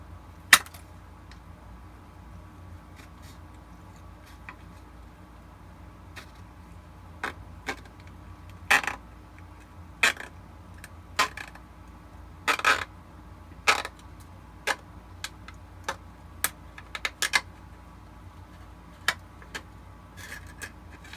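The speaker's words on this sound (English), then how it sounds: "then I'll use the curved scissors to do the curves" Curved scissors cutting plastic armor for a Shadow Trooper build: sharp, separate snips and clicks, sparse at first and then coming every second or so, close against quiet room tone.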